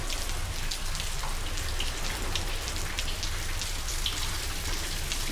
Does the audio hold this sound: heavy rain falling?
yes